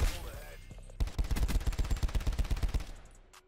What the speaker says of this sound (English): My teammate's shooting at me for some reason.